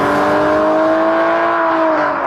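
A Porsche 911 Carrera 4 with a non-turbo 3.6-litre flat-six engine holds a steady, loud, sustained drone with a smooth whirring tone throughout, slowly easing slightly in pitch near the end, with no talking.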